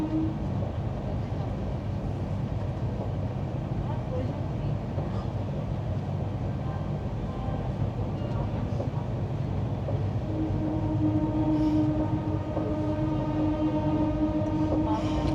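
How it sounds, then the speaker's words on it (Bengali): The Rajdhani Express rolls through Aligarh Junction past platform three, heard from on board as a loud, constant rumble of wheels on track, with a sustained horn-like tone entering near the end. "আলিগড় জংশন আর প্ল্যাটফর্ম নাম্বার তিনের ওপর দিয়ে আমরা যাচ্ছি"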